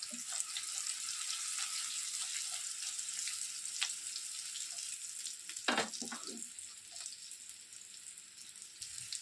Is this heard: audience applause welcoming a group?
no